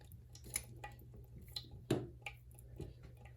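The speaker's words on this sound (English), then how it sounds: "It just seems like it just keeps on dripping." Water drips from a pipe during a SharkBite fitting install, a few faint, irregular drops and soft ticks landing in a quiet room.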